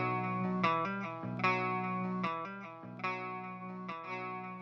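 Electric guitar through a delay effect, plucked notes and short chord figures each followed by repeating echoes that trail off, played alone and clearly up close.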